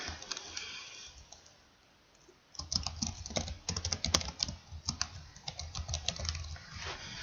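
Rapid typing on a computer keyboard, entering a movie title in an animation tool, with irregular bursts of close, crisp key clicks after a quiet pause.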